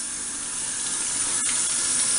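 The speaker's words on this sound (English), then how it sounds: "Just going to wash up some potatoes here." Tap water runs steadily into a sink while potatoes are washed for scalloped potatoes, a continuous broadband rush with a brief interruption midway, fairly close and without talk.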